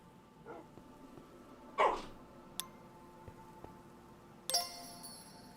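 A single faint dog bark sounds at a distance over quiet background hum, followed by scattered soft clicks and a brief chime.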